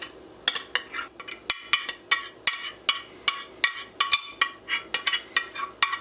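Apples and onions being mixed into ground wild turkey breakfast sausage in a bowl, a utensil clinking against the bowl in a quick, regular rhythm of sharp knocks, close and clear with no voices.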